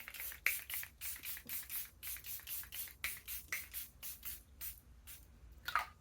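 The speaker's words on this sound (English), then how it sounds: "next we're going to go with the Charlotte Tilbury Airbrush Flawless Setting Spray" Charlotte Tilbury Airbrush Flawless setting spray misted from a pump bottle in a quick run of about a dozen short, close hissing bursts.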